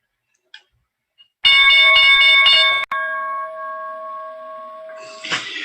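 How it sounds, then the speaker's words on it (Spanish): The New York Stock Exchange closing bell rings in a loud, rapid metallic clatter for about a second and a half, then a sustained ringing tone fades slowly, with no talk. "Tocó la campana, cerró la semana de bursátil"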